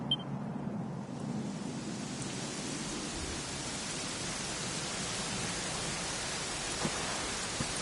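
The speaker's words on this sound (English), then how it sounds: "it was raining like this" Soft, even hiss of rain falling continuously in the video game Dragon Quest XI on PS4, fairly faint and distant, with no other sounds standing out.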